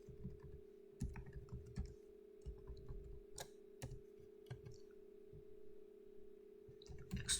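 Quiet keystrokes tap on a computer keyboard in irregular bursts while entering text into CAD software, with a steady background hum beneath the clicks.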